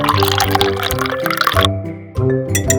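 Water pours and splashes into a glass of rice nearby, a steady liquid filling sound that briefly stops and then resumes.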